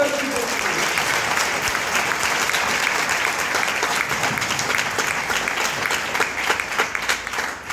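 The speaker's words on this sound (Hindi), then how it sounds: "तालियां होना चाहिए समझ" Sustained applause from a large audience, steady and dense throughout, with no pauses.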